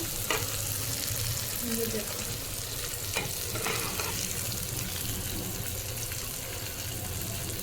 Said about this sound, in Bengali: এই যে চিংড়ি মাছটা ভালোভাবে কষায় নিতে হচ্ছে